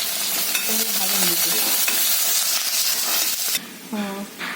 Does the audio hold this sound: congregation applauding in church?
no